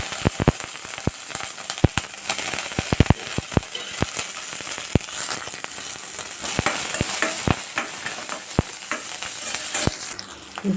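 Green chillies and garlic frying in oil, a loud close sizzle peppered with many sharp crackles and pops throughout, with no talking.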